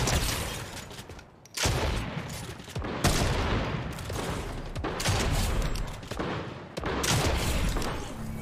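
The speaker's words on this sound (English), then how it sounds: "Ooh, they had a sniper rifle. Oh, that's a grenade launcher." Video game gunfight with a sniper rifle and a grenade launcher, continuous loud bursts of gunfire and blasts that keep going in dense volleys with brief gaps.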